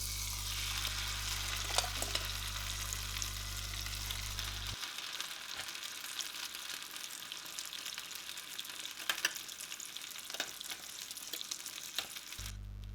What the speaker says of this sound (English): Give the vegetables a quick mix up in the egg mixture and then straight into the pan